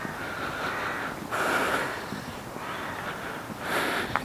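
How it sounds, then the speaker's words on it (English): A crow caws in the distance a few times, harsh and spaced out, over a steady hiss of countryside ambience near Newton St Loe, Bath. "Can hear the crow over there"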